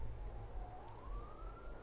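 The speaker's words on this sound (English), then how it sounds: "Oh, there's another siren." A police siren passes outside, faint and distant, its steady rising wail sitting low behind background noise with no talk.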